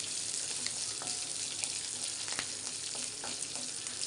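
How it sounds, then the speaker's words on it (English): Shallots and garlic sauté in a hot pan for a moringa leaf chutney, giving a steady close sizzle with scattered crackles and light stirring clicks throughout, and no voices. "we'll saute this till the onion is translucent"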